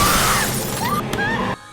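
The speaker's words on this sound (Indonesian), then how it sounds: "tiba-tiba saja, Kyung-chul datang kembali sambil memukul kaca mobil Ju-yoon dengan palu." A hammer smashes a car window in a film scene, a loud, sharp burst of shattering glass that rings briefly before cutting off abruptly.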